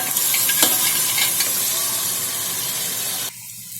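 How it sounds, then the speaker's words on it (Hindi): Boiled mutton, half a kilo, tipped into a hot pot of Hyderabadi tahri gives a bright steady sizzle with a short clatter as it lands, then the sizzle drops away near the end. "अब हम हाफ केजी मटन लिए थे जिसे हमने बॉईल करके रखा था, वो डाल रहे हैं"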